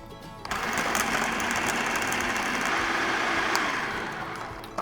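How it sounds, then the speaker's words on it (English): A blender runs on a lidded jar of watermelon sherbet ingredients, including ripe watermelon: a loud, steady motor whir that starts after about half a second and holds evenly to the end, with no voices. "All right, and then blend it one more time."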